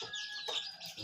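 Pet chickens in a small backyard give a brief burst of soft clucking and chirpy calls, close by and moderately loud, with no talking.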